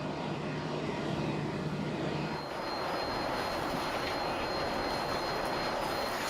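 A Boeing 747-8 jet in flight on a flight load survey gives a loud, constant roar of engines and rushing air, broad and steady throughout, its tone changing slightly a few seconds in.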